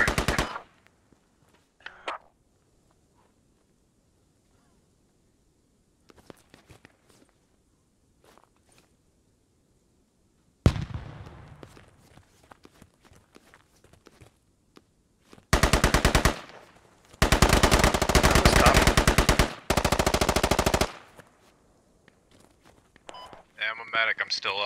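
Rapid bursts of automatic rifle fire from the military shooter Squad on PC hit in several loud, dense volleys near the end, after a long stretch of faint footsteps and scattered distant shots.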